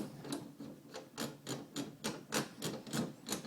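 Mossberg 500 shotgun magazine tube being screwed back on by hand, a close, quiet series of evenly spaced scraping, ratcheting turns of metal threads with no talking.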